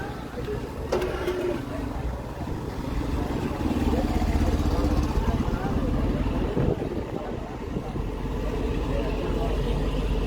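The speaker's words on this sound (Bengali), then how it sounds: "বিশাল বড় এক বালির নৌকা" A large sand-carrying boat passes on the river at Kanaiya, Gazipur, its engine a low steady rumble and drone heard under indistinct nearby voices.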